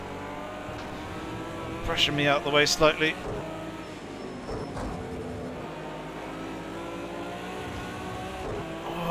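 Race car engines in Project CARS 2 multiplayer at Monza drone steadily in traffic, with a brief burst of revving and gear changes early on. Someone talks over the engine noise throughout.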